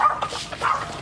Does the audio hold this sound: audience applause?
no